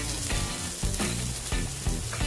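Onions sautéing in a pan with curry leaves and urad dal, a steady close sizzle with a few stirring scrapes breaking through, no talking.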